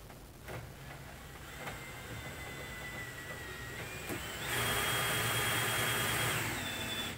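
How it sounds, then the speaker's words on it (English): A power drill runs on slow speed with a bow press, whining steadily, its pitch shifting up partway through as it runs louder, with a few clicks and knocks. "When you're running the drill, run it on slow"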